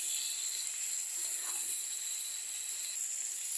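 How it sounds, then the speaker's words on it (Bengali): A spiced potato mixture with a little sugar is sautéed and stirred in a pan, giving a faint, continuous hiss and sizzle with a soft scrape partway through. "এটাকে এখন যতটা পারা যাবে কষাতে হবে আর কি"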